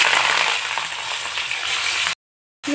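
Onion and curry leaves sizzle in hot oil with mustard seeds in a pan, a dense, close crackling hiss that cuts to silence for a moment before resuming.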